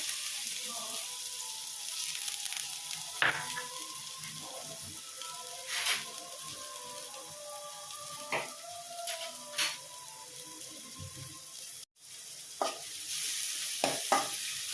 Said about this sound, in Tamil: எண்ணெய் காஞ்ச உடனே நம்ம கட் பண்ணி வச்சுருக்க வெங்காயத்தை ஆட் பண்ணிக்கிறேன்